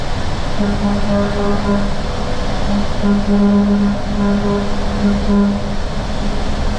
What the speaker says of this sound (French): ça va faire profiter un petit peu les frontaliers du klaxon